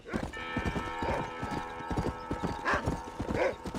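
Horse hooves clip-clop in steady rhythm in the Western video game Red Dead Redemption, with a brief whinny and faint background game ambience; no speech over it.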